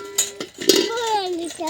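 Metal cooking vessels clank together at home, several sharp ringing knocks in quick succession, close and fairly loud, with a voice speaking over them.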